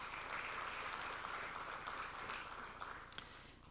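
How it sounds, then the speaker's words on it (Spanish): Crowd applause for a doctor at a Mexican otorhinolaryngology and head and neck surgery society event, steady and dense, heard faint and distant, holding for several seconds before thinning out at the end. "Un fuerte aplauso también, por favor."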